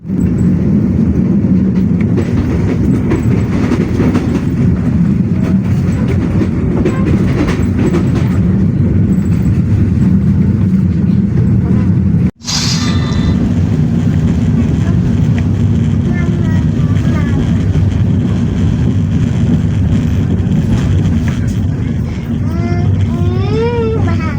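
KA Pandanwangi train pulling into Banyuwangi Kota station, a loud steady rumble of rolling wagons with a brief break midway, then squealing brakes and whining tones near the end as it slows.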